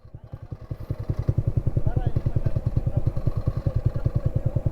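A motorcycle rides a mountain road in Bacon, Sorsogon, Philippines, its engine thumping in a fast, steady low-pitched rhythm close by, with a faint voice briefly over it.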